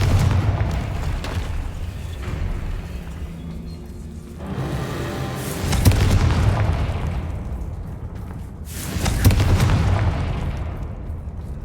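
Confringo fire spell blasts in the game Hogwarts Legacy, loud booming explosions hitting around 4.5, 6 and 9 seconds, each with a crackling rush that fades out, over rumbling game ambience.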